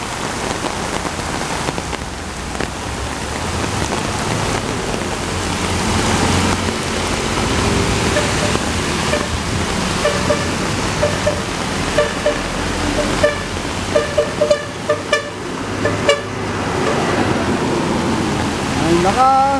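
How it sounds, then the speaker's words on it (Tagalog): Heavy rain pours steadily onto surfaces outdoors on a wet street, a dense continuous hiss with scattered drips, faint traffic and a voice now and then. "Ang lakas-lakas ng ulan."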